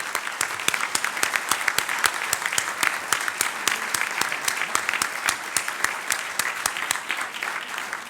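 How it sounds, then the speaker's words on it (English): An audience at the National Press Club applauds a speaker, with dense, loud, continuous clapping from a large crowd that holds steady for the full stretch. "How about a round of applause for our speaker?"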